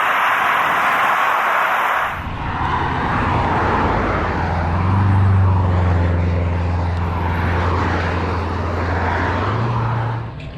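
Road traffic passes cyclists heading out of Weymouth in the Dorset countryside, as a loud engine roar and tyre noise swell up close and then drone on at length.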